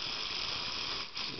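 Aerosol carburetor cleaner sprays in a steady, loud hiss close up, one continuous burst with a brief dip near the end before it resumes.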